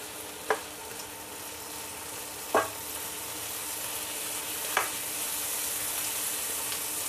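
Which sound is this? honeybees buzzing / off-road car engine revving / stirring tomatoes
stirring tomatoes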